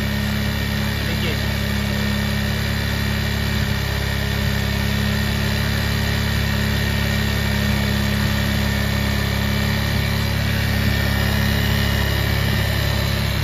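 A motorcycle engine idles steadily after its air screw is adjusted to raise the rpm for better mileage, a close, even, continuous hum with a constant pitch and no revving.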